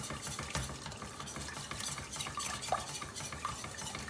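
Béchamel sauce being stirred in a pot just after cold milk is poured in, soft continuous scraping and swishing with light utensil taps, quiet and close, no voices.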